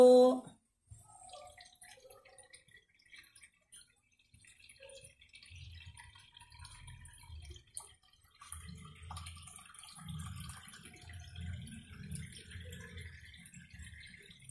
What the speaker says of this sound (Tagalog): lagyan na po natin ng water mga kaguro